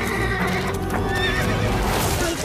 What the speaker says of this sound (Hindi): ये आजाद घोड़ा है